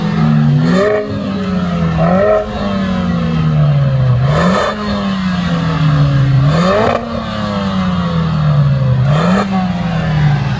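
A Lotus Emira sports car engine revs loudly up close, pitch climbing and dropping back about four times in a steady rhythm, with no one speaking.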